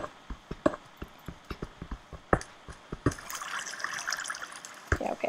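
Running water trickles in a block-building survival game, heard as a string of soft drips and splashes that give way to a steadier, louder trickling flow.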